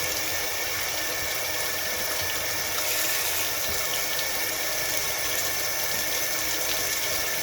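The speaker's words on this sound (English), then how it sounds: "I'm just going to run some water through it" Water running and pouring through dyed Sufix 832 braided fishing line to rinse off excess colour, a steady, continuous hiss of flowing water at constant loudness.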